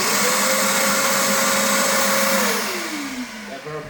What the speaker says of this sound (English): we'll connect our vacuum cleaner